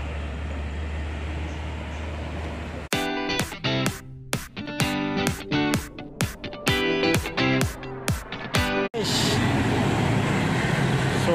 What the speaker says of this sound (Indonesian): Suara mesinnya